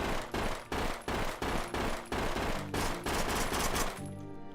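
Rapid automatic gunfire from the Intravenous 2 video game, loud sustained bursts in several runs with short gaps between them as magazines are emptied, ending in a brief quieter tail.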